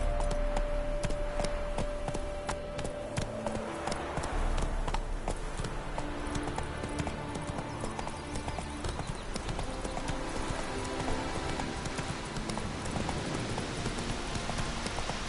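Roach, Geralt's horse in The Witcher 3, galloping, with rapid rhythmic hoofbeats over a dense game soundtrack, a brief tone near the start and faint voices now and then.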